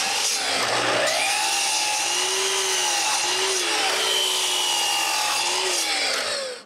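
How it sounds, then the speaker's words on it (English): Thin strips of maple wood being cut with a power tool, a steady whining rasp with shifting pitch that runs loud and continuous for several seconds. "I cut some thin strips of maple and glue them in place."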